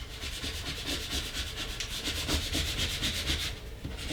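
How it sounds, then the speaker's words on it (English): A scraper tool burnishes vinyl onto a Christmas ornament, making a continuous close scratchy rubbing in quick back-and-forth strokes, steady and alone. "Burnish it up some with the scraper tool."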